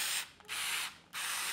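Cheap FERM cordless screwdriver motor whirring in three loud bursts with short pauses between, a harsh hissing buzz heard close up, no talking.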